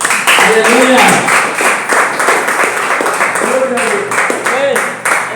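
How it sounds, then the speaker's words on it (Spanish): A church congregation breaks into applause, a dense, continuous wash of clapping with cheers and voices mixed in, loud and close throughout. "Si usted puede dar un aplauso"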